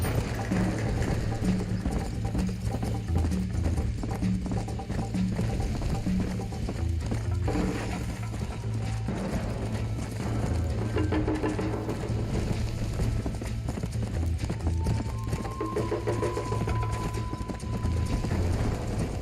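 A horse gallops in the Red Dead Redemption game world, its rapid hoofbeats drumming continuously under game music and effects, with mechanical clatter mixed in throughout.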